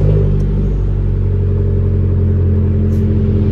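An Abarth 595 engine fires up from a cold start, settling into a loud, steady rumbling idle heard close up with no talking.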